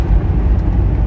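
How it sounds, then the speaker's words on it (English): Cars drive past close by on a road, a loud continuous low rumble of engines and tyres with no break, heard alone without voices. "Every car that you hear driving by me is synced."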